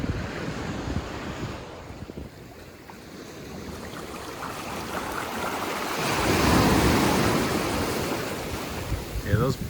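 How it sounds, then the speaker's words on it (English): Ocean waves crash and wash on a Lanzarote beach, a continuous roar of surf that swells louder midway, mixed with gusting wind buffeting the microphone. "those bigger waves are really not helping me"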